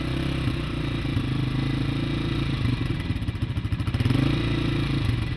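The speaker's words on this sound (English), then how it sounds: "that's the brand new dirt bike that has never hit the dirt yet" A brand new dirt bike idles steadily close by with a chugging, throbbing beat, then briefly revs with a quick rattling pulse before settling back to a steady run, with no talk.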